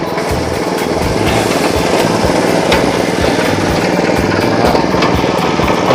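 A used Honda-engine water pump with CDI ignition runs at a steady idle-like pace, its small engine chugging loudly and close without a break, with no one talking.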